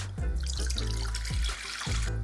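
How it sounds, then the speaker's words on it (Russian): Water runs steadily from a tap into a saucepan, a continuous splashing fill with a few shifts in pitch as the vessel moves, no talking. "в сотейник налью воду"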